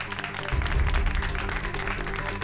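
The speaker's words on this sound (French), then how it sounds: "Alors applaudissez tous Shruti" A group of people in a drama series scene breaks into lively clapping for a girl chosen for a role, a dense patter of hands with low background murmur.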